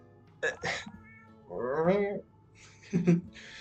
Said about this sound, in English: Displeased cat noises.